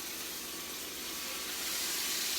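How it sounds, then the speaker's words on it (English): A steady, soft hiss of shrimp sizzling in a frying pan, growing slightly louder toward the end, with no voices. "You hear the sizzle?"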